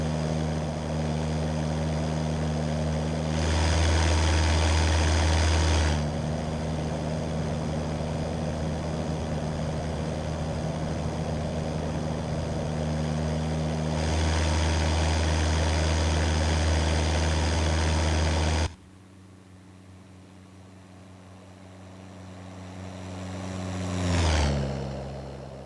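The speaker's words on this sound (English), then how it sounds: "You can again listen to the beautiful engine sounds." A simulated Cessna 172 propeller engine in X-Plane 11 idles with a low, even drone, swelling briefly twice, then drops quieter before a short revving surge near the end.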